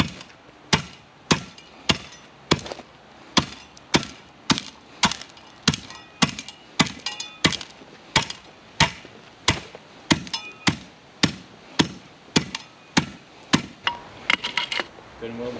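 Base material under granite steps is compacted by hand with a steady series of sharp, thudding strikes, about twenty-two evenly spaced blows ringing out close and loud.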